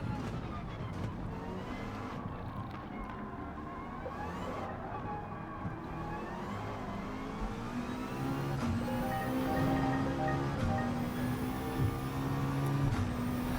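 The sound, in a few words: AI cars driving past in Gran Turismo 7 video game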